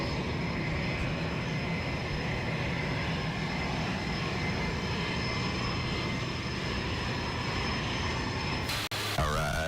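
U.S. Navy Blue Angels jet aircraft in flight, a loud, steady engine roar heard from inside the cockpit, droning continuously before a brief break near the end.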